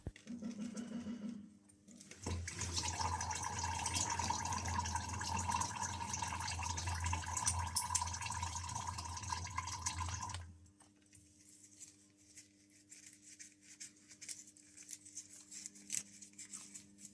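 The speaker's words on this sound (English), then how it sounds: "after that all the oil will come out from the gearbox" Oil from a DSG transmission gearbox pours out in a steady splashing stream for several seconds, then slows to a faint trickle with scattered drips.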